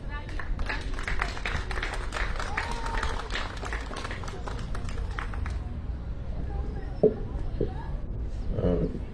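An audience at a political campaign rally claps in a dense patter of many hands for several seconds, then the applause thins out and a voice speaks over a microphone.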